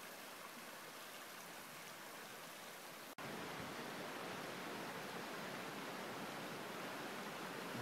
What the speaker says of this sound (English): the Highline Trail crosses numerous spring-fed, trout-laden streams, just like Tonto Creek